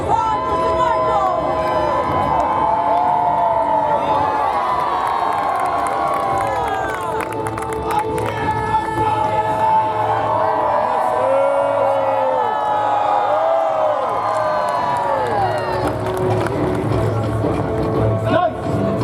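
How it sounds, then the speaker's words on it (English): A large outdoor crowd at a Renaissance faire joust in Pennsylvania cheers loudly and continuously for mounted knights, with whoops and children's shouts mixed in and an announcer's voice calling over the din. "A cheer for these champions!"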